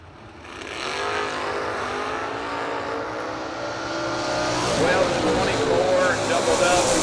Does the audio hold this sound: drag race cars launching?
yes